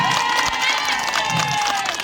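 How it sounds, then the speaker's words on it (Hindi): A crowd at a women's cricket tournament prize ceremony claps and cheers, a dense, steady wash of applause and shouting from a nearby outdoor audience, with some voices mixed in. "तो मैं चाहती हूँ एक बार जोरदार ताली हमारे प्रेम सिंह नेगी जी के लिए,"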